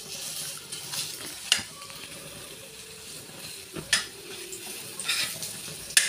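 Ground chana dal hitting hot oil for a Maharashtrian fodnicha jhunka, giving a steady moderate sizzle and frying hiss with a few sharp spoon-and-pan clinks scattered through.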